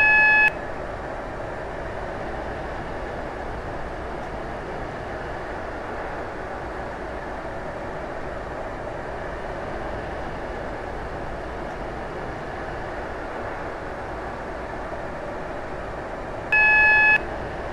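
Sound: Class 458 train running, Stepford Connect service

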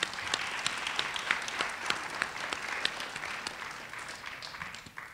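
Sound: audience applause

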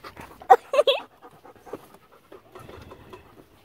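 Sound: dog panting

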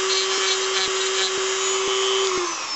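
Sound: sanding down sharp flat edges of gold anchor necklace

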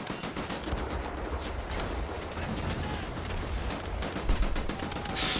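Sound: grenade explosion and gunfire in the video game Wolfenstein: The New Order

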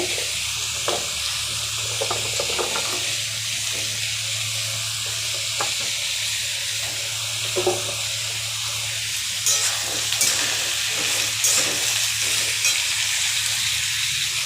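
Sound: sweet potato and papaya frying in a pan

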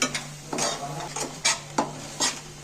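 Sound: stirring and sautéing palak paneer in pan

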